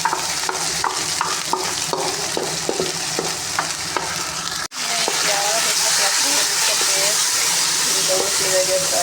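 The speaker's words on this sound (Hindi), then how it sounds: "साथ साथ प्याज़ों के साथ ये भी फ्राई हो जाए" Ginger, garlic and chili paste frying with onions in a pan, a loud, continuous close sizzle with stirring scrapes, briefly cut off then returning stronger, with a voice talking over it.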